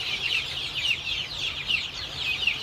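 Chickens at a poultry farm during beak trimming with an automatic beak-cutting machine, a steady overlapping chorus of high clucks and cheeps, fairly loud and close, with no talk.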